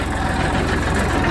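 A tractor engine runs at a steady idle-like throb, loud and close, with a regular low pulsing and no voices, heard at night during farm work on mustard fields.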